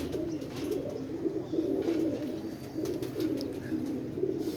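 Several pigeons coo in a steady, overlapping stream, a low throaty warble rolling on without pause, close and fairly loud, with no talking over it.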